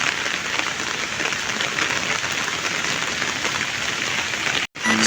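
Steady heavy rain falls during bad weather, a dense, even wash of drops hitting surfaces that carries on without a break until a brief cutout near the end.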